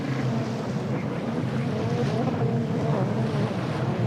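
Superstock racing powerboats running on open water during a powerboat world series race, a continuous loud engine drone mixed with wind buffeting and wave noise.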